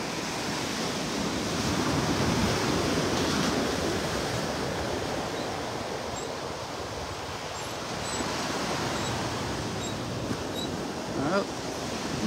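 Waves and surf washing steadily onto North Hutchinson Island beach near Vero Beach, a continuous broad roar of breaking water with some wind noise on the microphone, no speech.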